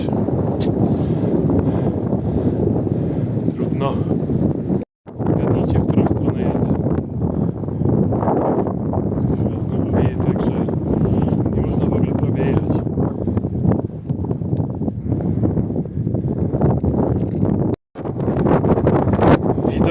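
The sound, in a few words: wind noise on microphone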